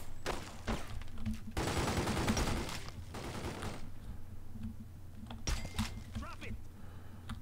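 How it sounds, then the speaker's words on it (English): Bursts of gunfire in The Godfather II video game, a dense fusillade of rapid shots with scattered single cracks, fairly loud against game ambience and music. "who are you shooting at, man?"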